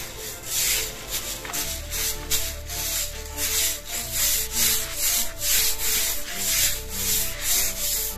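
A wall being rubbed and scraped clean with a brush before waterproofing, a loud, close, rhythmic abrasive scrubbing in repeated strokes across the whole clip.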